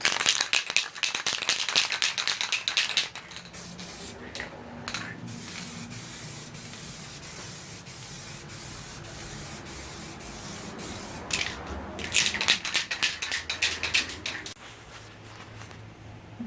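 A mini spray gun lays clear coat onto car headlights in steady hissing bursts, loud near the start and again near the end, with a quieter stretch of faint handling noise between.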